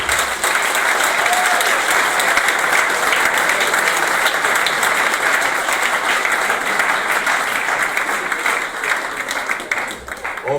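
Applause from a dinner audience acclaiming couples at a church couples' evening, sustained and dense from start to finish. The clapping thins a little at the very end.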